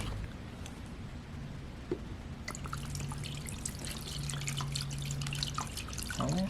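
Maple syrup dribbles and drips steadily into a motor over a low background hum, with a few small clinks near the end.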